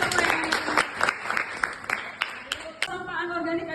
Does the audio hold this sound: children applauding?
yes